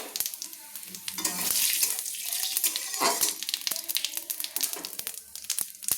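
Cumin seeds and two whole dried red chillies crackle and sizzle in hot oil, a busy, bright spitting that swells and fades with a few louder pops and clinks near the end, no voices.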